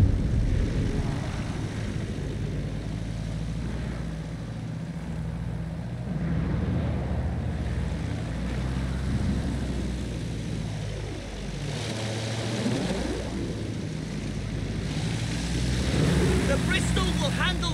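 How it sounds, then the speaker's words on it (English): Engine drone of a Bristol biplane in the World War I game Battlefield 1, flying in Vosges, France, a steady buzzing propeller roar that rises and falls with throttle throughout. "The Bristol will handle like the other planes."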